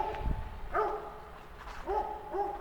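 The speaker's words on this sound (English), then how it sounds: "Don't mind the dog." A dog in the Georgia countryside gives a few faint, short barks and yelps, spaced irregularly, heard from some distance outdoors.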